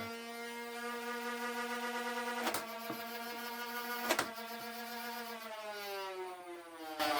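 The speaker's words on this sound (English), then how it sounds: "firing one dart when I pull the trigger and firing another when I release the trigger" A steady whirring motor hum with rising pitch, broken by two sharp, loud pops of a Nerf Elite 2.0 Double Punch foam dart blaster firing, close by.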